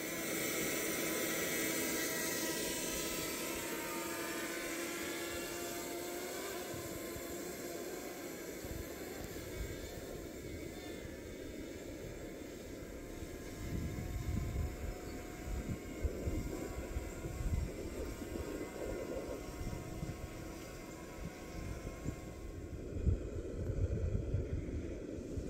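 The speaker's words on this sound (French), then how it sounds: "Je suis en train de chauffer l'eau." A camping stove roars steadily while heating water for minestrone outdoors, a continuous broadband hiss and rumble with no talk, its low end growing rougher and louder toward the end.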